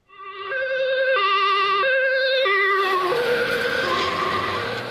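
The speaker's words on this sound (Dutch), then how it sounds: "Datzelfde effect kun je horen bij de sirene van de ambulance die voorbij komt rijden." An ambulance siren passes by in a loud, steady two-tone wail alternating between high and low notes. Its pitch drops as the vehicle goes past, and rising road noise blends in toward the end.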